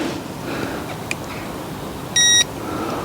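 A fishing bite alarm on a pike rod at a lake gives a single short electronic beep, loud and close, over steady outdoor background noise. A faint tick comes just before it.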